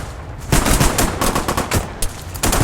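Dense gunfire from an enemy firefight in the video game Arma: rapid bursts and overlapping machine-gun volleys crackle continuously and loudly, with no voices over them.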